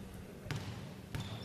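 A basketball bounces twice on a gym floor before a free throw in a youth select team game at the Kagoshima Basketball Summit 2020, two distinct thuds about half a second apart over quiet arena murmur.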